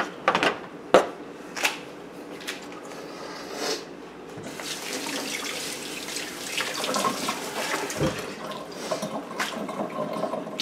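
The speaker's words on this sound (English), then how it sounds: "Now I always rinse and wipe my knife before I go to anything else" A kitchen tap running as a knife is rinsed after cooking an omelette, a few sharp clinks and knocks first, then a steady splashing water flow under the faucet that continues to the end.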